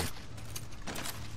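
Gunfire in the video game Far Cry 6, a sustained burst of shots running through the clip with a brief louder stretch near the end, loud and close.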